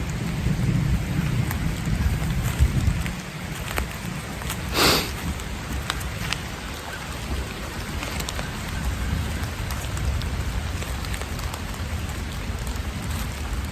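Thunderstorm in a forest: steady rain patters throughout, with a sharp thunder crack near the middle over a continuous low rumble, close and fairly loud, no talking.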